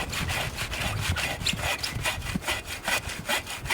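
A hand saw rasps steadily through a log in quick back-and-forth strokes, close and fairly loud, with no voices.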